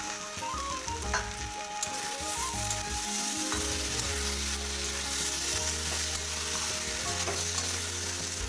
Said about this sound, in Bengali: আমি এতে কেটে রাখা টমেটোগুলো অ্যাড করে দিলাম।